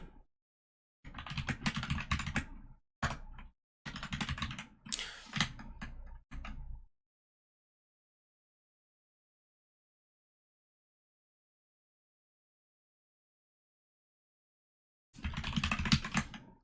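Computer keyboard typing during a live coding session, several quick bursts of clicking keys over the first seven seconds, then silence, then one more short burst near the end, close and moderately loud.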